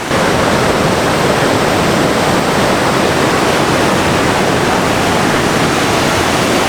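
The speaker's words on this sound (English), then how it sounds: "it's high tide right now, so the tide pools are covered with water" Ocean waves at high tide wash against rocks at the base of a cliff, a loud, continuous broadband roar of surf with no break and no voices.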